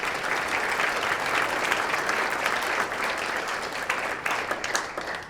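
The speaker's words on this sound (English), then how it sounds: "So let's give them a round of applause," Steady applause from a crowd at a birding awards brunch, dense clapping that holds for several seconds at an even level before thinning slightly near the end.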